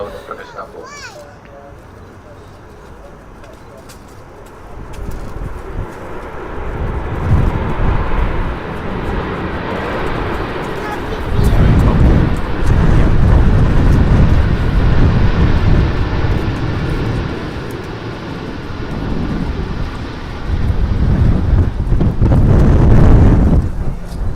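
TUI Boeing 787 Dreamliner airliner at Manchester, a broad rising roar that swells and recedes over wind buffeting on the microphone, with faint children's voices in the background.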